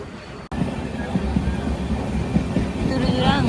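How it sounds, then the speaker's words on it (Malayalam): A passenger train rumbles steadily along the track on a journey toward Kollur, a continuous loud, close rolling noise heard from on board, with faint voices in the carriage. "അങ്ങോട്ടും ഇങ്ങോട്ടും ട്രെയിൻ അടിക്കും."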